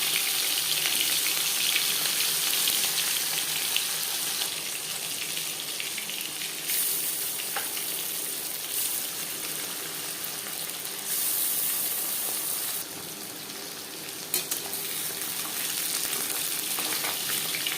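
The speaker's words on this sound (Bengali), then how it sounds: "4-5 চামচ রিফাইন্ড অয়েল গরম করে নিয়েছি। দিয়ে দেবো ম্যারিনেট করে রাখা মাছ।" Marinated bata fish fries in 4-5 spoons of hot refined oil, giving a loud, continuous sizzle and crackle that swells and eases slightly in level throughout, with no talking.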